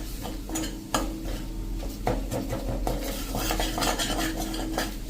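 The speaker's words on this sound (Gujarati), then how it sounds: "આ રીતે આપણે 1 જ મિનિટ આ રીતે ચલાવીને કૂક કરી લેશું" Metal spoon stirring and scraping onion gravy thickened with besan in a pan, steady clinks and scrapes with a faint sizzle underneath, no talking.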